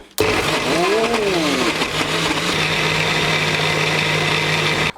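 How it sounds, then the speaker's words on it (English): A blender mixes diet shake ingredients with a loud, steady motor whir that starts abruptly, changes pitch briefly early on, then holds constant. "So we're basically just gonna mix everything in the blender."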